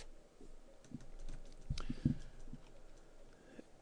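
Computer keyboard keys are pressed for a select-all shortcut, a few quiet scattered clicks and taps over faint room noise, with no talking.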